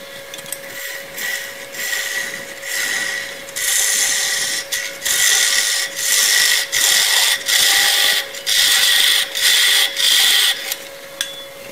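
A bowl gouge making push cuts across a spinning wood bowl on a lathe gives a loud, steady hissing scrape with a constant motor hum beneath, pulsing in repeated strokes of a second or so each.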